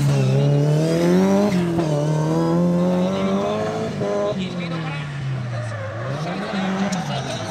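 Drift cars compete at night on the Okuibuki mountain course at JIDC 2022, engines revving and wailing loudly with rising and falling pitch and tires squealing as the cars slide past.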